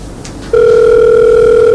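A telephone rings with one long, loud, steady electronic tone lasting over a second, following a short stretch of quiet room noise.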